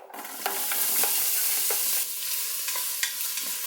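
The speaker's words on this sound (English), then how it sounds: "I'll saute this for a few minutes until the onions are soft" Chopped onion and garlic sauté in about three tablespoons of oil inside an Instant Pot IP-DUO60 pressure cooker, a close, even sizzle broken by regular scrapes of a stirring utensil.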